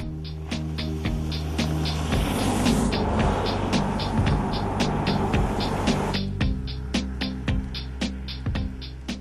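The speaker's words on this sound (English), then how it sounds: "The 370Z doesn't sound as much like a sports car, but more like a Japan-made family station wagon." A Nissan 370Z sports car driving, its engine a low steady drone with strong harmonic tones and a rougher burst of road and engine noise midway, overlaid by repeated sharp clicks.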